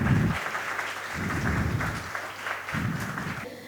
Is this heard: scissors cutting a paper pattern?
no